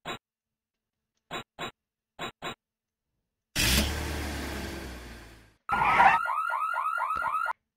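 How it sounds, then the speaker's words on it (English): An alarm in the video game Wheely 7: a few short beeps, then a loud whooshing blast, followed by a warbling, rapidly pulsing alarm siren that keeps going to the end. "Oh, we set up the alarm."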